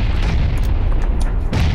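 Grenade explosions in the video game PUBG: one continuous loud booming rumble with low thuds, and a fresh burst near the end. No voices are heard.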